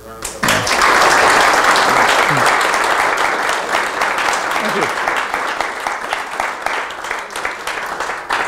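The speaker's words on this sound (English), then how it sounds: "another round of applause" Loud, sustained applause from a lecture audience after a talk, many hands clapping steadily and slowly tapering, with a short spoken voice near the start.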